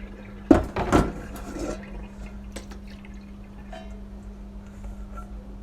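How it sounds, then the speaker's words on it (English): Soaking water from sea moss is poured out in a short splashy gush near the start, followed by faint drips and trickles against a steady low hum, with no talking. "because you're not going to use this, you discard this water."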